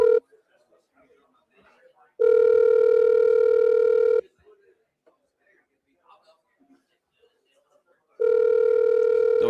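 A telephone ringback tone sounds after dialing, two long steady electronic rings about four seconds apart, with near-silence between them.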